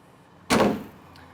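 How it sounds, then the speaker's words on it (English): A single solid thump as the trunk lid of a 1988 Pontiac Fiero GT is shut, close and sharp with a short fading ring, then near silence. "And we'll go ahead and close our trunk."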